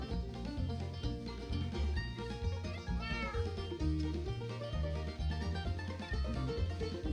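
Cats meow amid the busy machinery hum and steady game music of a modded Minecraft Skyblock world, the cries fairly faint under a dense, continuous backdrop.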